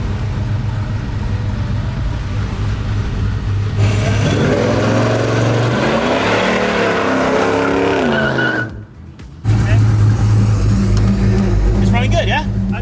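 1971 Chevelle small-block doing a burnout, a loud, close engine roar with tire squeal swelling and wavering for several seconds, then a brief dip before the engine picks back up, with people talking over it.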